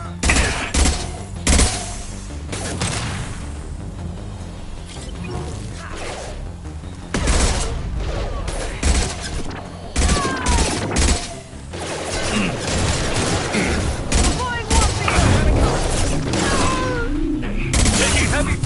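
Heavy gunfire in Mass Effect 2: rapid bursts of automatic shots and sharp impacts come in waves, loud and close, with crashes and thuds between them and voices calling out over the combat.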